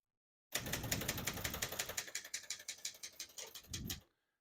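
A 1967 Brother Webster XL-500 portable typewriter being typed on, a rapid run of close, crisp key strikes in steady rhythm that ends with a heavier mechanical clunk before the sound cuts off.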